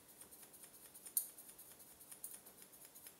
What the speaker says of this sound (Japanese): これはハサミの先で切ってるんですけど